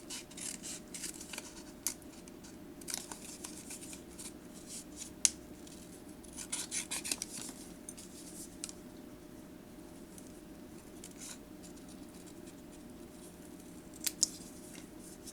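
Scissors trimming paper for a journal: quiet, intermittent snips spread over a low steady background hum, with small isolated clicks of the blades opening and closing.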